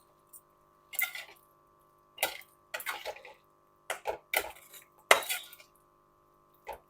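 A spoon scrapes and clinks against a pan while fried spice is mixed into pointed gourd, with about six separate bursts of stirring and short pauses in between, close and fairly loud.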